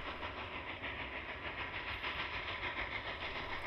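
A narrow-gauge train running on a reopened railroad line between Jöhstadt and Steinbach, giving a steady, fairly faint rumble with soft rhythmic rail clatter throughout, with no voices.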